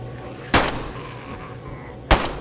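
Two pistol shots in the DayZ video game, sharp and loud, about one and a half seconds apart, each a short crack over a low steady background hum.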